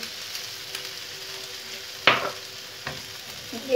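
Eggs seasoned with black pepper and salt are poured over potatoes frying in a pan, giving a steady, close sizzle that jumps to a sudden louder hiss when the eggs hit the oil, without speech.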